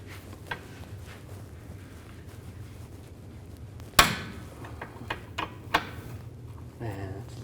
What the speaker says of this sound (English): I'm going to loosen up this jam nut. I'm going to use a 17mm wrench.